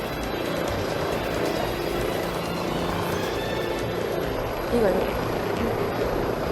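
Leonardo AW169 fire helicopter in flight during a safety drill, a steady broadband rotor and engine roar holding level throughout, with a slight swell near the end.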